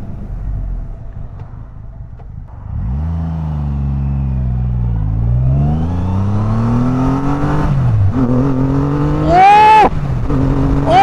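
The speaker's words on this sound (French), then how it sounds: "La poussée de cette moto, mais c'est impressionnant!" A Triumph Rocket 3 motorcycle accelerates hard on a test ride, its deep engine note climbing steadily in pitch through the gears with a loud, close, rumbling roar and a brief high whine near the end.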